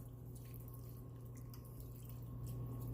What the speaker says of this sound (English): I'm going to pour a can of cream in there.